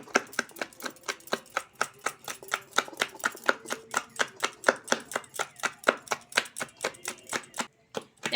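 Lentil batter for Bengali rasbora fritters being beaten by hand in a bowl, giving a steady run of quick, even slaps and thuds at close range, with no talking.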